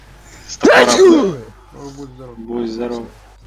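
A single loud, sharp human sneeze with a quick breathy build-up, followed by brief voiced murmuring afterward.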